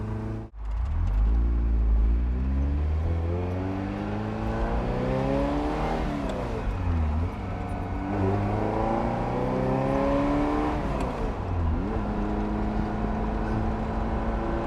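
A Dino Evo Restomod car engine under way, loud and close, with a strong sustained drone rising and falling through several gear changes and revs over about fifteen seconds.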